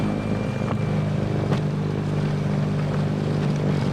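An electric snow blower clearing snow runs with a steady motor drone and whirring hum, continuous and close throughout, with a faint brief knock partway through.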